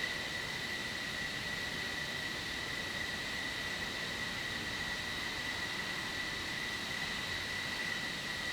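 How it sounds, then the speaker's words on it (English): A Mirage F1 jet taxis in a Cold War flight-simulator game, giving a steady, unbroken engine whine and broad hiss at constant loudness throughout, with no talking. "the Mirage F1 is taxiing"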